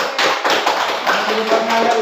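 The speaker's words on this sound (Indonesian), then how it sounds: "Tepuk tangan dulu" A classroom of children claps together in a quick, dense run of bright hand slaps. The clapping is close and loud and keeps going for the whole moment.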